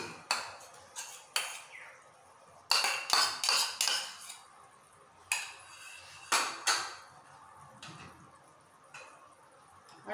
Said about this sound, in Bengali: এটাকে ফেটিয়ে দেবো। খুব ভালো করে ফেটিয়ে সব দইটা দিয়ে দিচ্ছি।